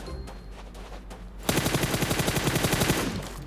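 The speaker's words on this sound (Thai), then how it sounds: "ทำไมมีเสียงปืนอยู่ซ้ายมือ" Gunfire crackles in a steady automatic burst in the video game PUBG Mobile, a rapid string of evenly spaced shots following a quieter stretch of background noise.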